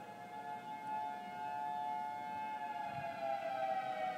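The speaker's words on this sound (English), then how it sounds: "First day of tornado sirens in 2015." Tornado siren wailing in the distance, a steady sustained tone holding level with slight rises in loudness, faint but clear over quiet outdoor background.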